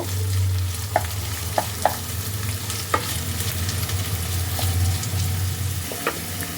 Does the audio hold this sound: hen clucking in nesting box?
no